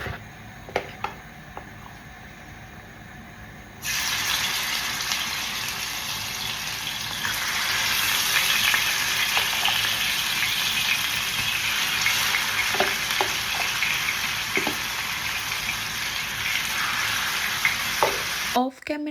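Fish spice paste fries in a pan with a steady, bright sizzle that starts abruptly a few seconds in and continues, punctuated by occasional clinks and stirring sounds.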